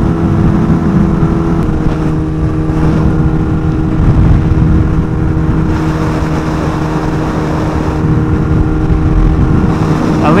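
A Kawasaki Ninja H2R motorcycle cruises in sixth gear, its engine holding a loud, steady droning hum mixed with rushing wind noise throughout, with no clear revving changes.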